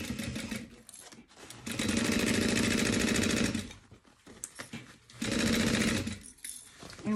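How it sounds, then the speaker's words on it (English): A sewing machine stitches through a bubble mailer envelope, its motor whirring in two long steady runs with a rhythmic needle chatter, separated by quieter handling noises. "I'm gonna stitch this."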